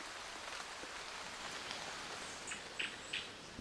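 Soft, steady rain falls in a summer forest, a faint, even patter with a few brighter drips near the end and no voices.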